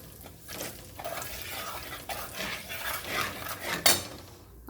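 Fish pieces coated in turmeric and a spoonful of red chilli powder are stirred in a bowl with a spoon. Rough, close scraping and rubbing continue throughout, with one sharper metallic clink near the end.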